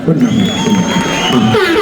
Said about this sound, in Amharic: መጀመሪያ ግን እስቲ አጨብጭቡ በእናታችሁ